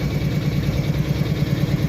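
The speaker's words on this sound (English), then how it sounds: "Alright, the air compressor's on." A locomotive air compressor runs steadily, pumping air for a train on an Abbeville switcher, a continuous low throbbing chug with regular pulses, fairly close and alone without voices.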